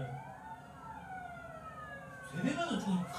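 Several fire engine sirens wail and sweep past in Incheon at moderate distance, with their pitch sliding as they go by and growing louder toward the end over background traffic.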